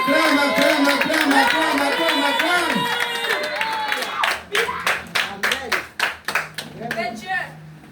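Church congregation clapping in acclamation during a French-language sermon service, first under a speaking voice and swelling crowd noise, then breaking into loud, distinct rhythmic hand claps near the close.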